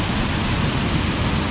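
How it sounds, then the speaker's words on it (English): Flooded Lumb Falls in Hebden Bridge, a steady dense roar of rushing water, loud and unbroken, with no voices. "looking at the waterfall from this angle is quite a sight."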